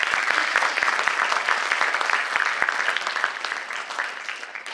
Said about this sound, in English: give a huge round of applause for our chief guest